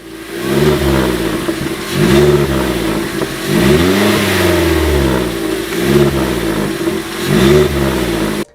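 An Opel/Vauxhall Corsa D engine revs repeatedly up and down in five rising-and-falling bursts, loud and close, with a throaty sporty exhaust note.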